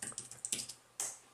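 Typing on a Logitech Ultrathin keyboard cover for iPad, a quick run of crisp key clicks followed by a pause and one sharper, louder tap, close up with no talking.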